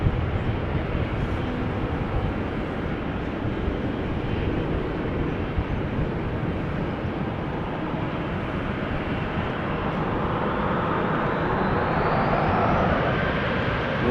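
A 27-year-old Swiss airliner on flight 725 to Zurich roars steadily at Schiphol Airport, a broad, sustained engine rumble that swells slightly toward the end, with no voices.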